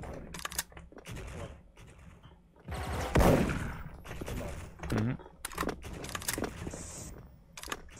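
Bursts of gunfire in the Special Force shooter game, sharp repeated shots and rapid volleys scattered across the stretch, loud and close, with Korean players chatting over the action.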